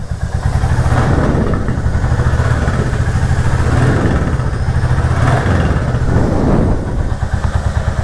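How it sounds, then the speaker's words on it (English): A Royal Enfield Classic 350 single-cylinder motorcycle engine thumps steadily at idle, then revs up a few times with rising and falling roar, close and loud. "Nice single cylinder rumble."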